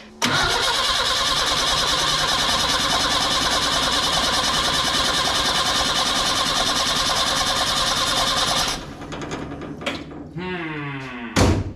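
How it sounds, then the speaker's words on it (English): The electric fuel pump of a 1965 Datsun 320 switches on loud and close, holding a steady, dense mechanical buzz for about nine seconds before cutting off into fainter rattles and clunks. "You'll hear the fuel pump kick on maybe."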